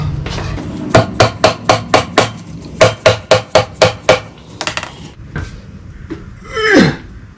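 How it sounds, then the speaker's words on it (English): A dead blow hammer pounds on the brake assembly of a hot rod frame in two quick runs of sharp, evenly spaced strikes, about six and then eight blows, loud and close, followed by a few scattered knocks and a scraping rustle. "Let's use a dead blow."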